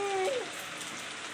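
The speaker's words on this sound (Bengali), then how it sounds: "সুন্দর করে ভেজে নেব।" Chicken fries in a pan for a Bengali jackfruit curry, a brief steady hiss of sizzling with a faint tonal whine at the very start.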